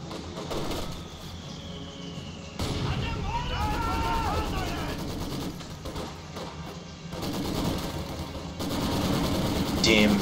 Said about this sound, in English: Damn Russians and their MGs